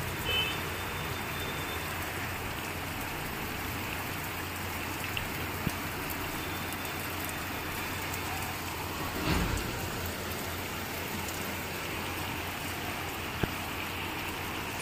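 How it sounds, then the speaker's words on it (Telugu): Steady rain pours down in Delhi, a dense, even hiss of drops spread across the whole clip with only slight swells and no voices. "ఇది వర్షం బాగా పడింది ఫ్రెండ్స్ ఈరోజు"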